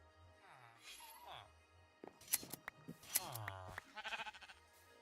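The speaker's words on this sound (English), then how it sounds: "I shear the sheep and it takes the lead off" Minecraft sheep give several short, wavering bleats at moderate loudness, mixed with brief clicks and snips from shearing. Speech is heard alongside.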